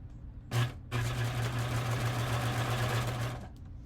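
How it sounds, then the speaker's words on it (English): A serger sewing machine stitches fabric in a steady, fast mechanical whir with a regular pulsing hum, briefly starting, pausing, then running continuously for nearly three seconds at close range before stopping. "I'm just running the fabric down beside the foot pedal. I mean, not the foot pedal, the serger foot."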